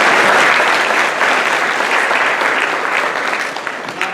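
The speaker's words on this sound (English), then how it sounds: "so let's give them a round of applause." Audience applause in a conference room at a veterinary cadaver procedure session, a dense steady burst of clapping from a crowd that fades slightly toward the end.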